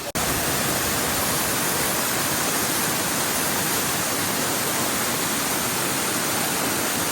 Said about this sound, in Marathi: आलो एकदाचे आम्ही धबधब्यावर